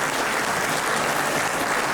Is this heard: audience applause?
yes